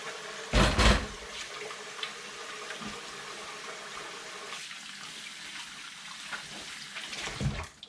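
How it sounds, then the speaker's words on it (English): Hands washed under a running kitchen tap after handling raw meat, a faint steady trickle of water with a loud gushing burst near the start and another near the end. "we should wash our hands."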